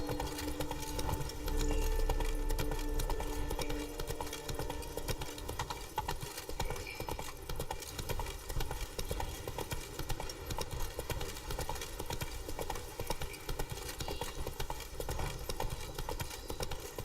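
Horse Roach trotting in The Witcher 3: Wild Hunt, a steady run of clip-clop hoofbeats with a rhythmic, even pace, fairly close and continuous, with game ambience and some movement noise layered underneath.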